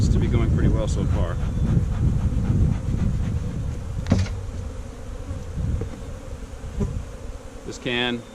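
Honey bees from a newly installed package colony buzz steadily around their hive, a dense continuous hum with someone talking over it throughout.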